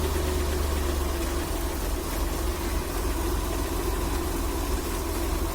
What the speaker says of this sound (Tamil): பார்த்தீங்கன்னா இன்ஜின் வைப்ரேஷன் ஆக ஆரம்பிச்சிட்டு